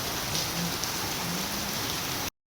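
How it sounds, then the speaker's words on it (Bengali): A heavy downpour of rain makes a dense, steady roar for a little over two seconds before it cuts off abruptly. "এখন দেখো কীরকম বৃষ্টি হচ্ছে, মুষলধারে বৃষ্টি হচ্ছে।"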